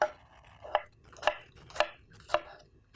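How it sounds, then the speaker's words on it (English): Knife cutting through a tomato on a board while making Balinese chilli sauce (sambal lanto), four crisp slicing chops spaced about half a second apart, close and distinct. "we are going to slice the tomato"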